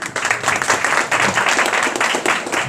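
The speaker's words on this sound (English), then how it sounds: "So round of applause to EDCO," An audience in El Dorado, Placerville, California, claps steadily at a wildfire awareness and prevention gathering; dense, sustained applause fills the space with no break and no voice over it.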